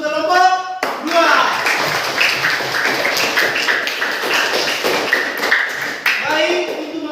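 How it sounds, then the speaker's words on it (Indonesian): A classroom group claps for group 2, a dense burst of applause lasting several seconds, with speech just before and resuming near the end. "Berikan aplaus untuk kelompok 2"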